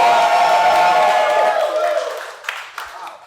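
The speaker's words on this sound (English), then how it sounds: "Let's hear a cheer for triple caramel chunk." A podcast audience cheers and claps for triple caramel chunk ice cream in a short burst of whoops that quickly fades, leaving a few scattered claps.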